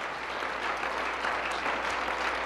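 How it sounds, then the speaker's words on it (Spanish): Applause from a church congregation during a sermon, a soft, fairly distant patter of many hands clapping steadily over a low hum, with no speech on top. "Un aplauso para Jesús."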